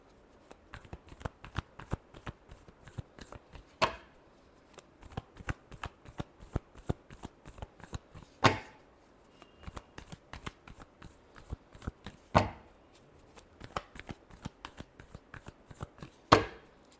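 Hand shuffling of tarot cards, rapid close riffling clicks with occasional sharper slaps spaced a few seconds apart, no voices.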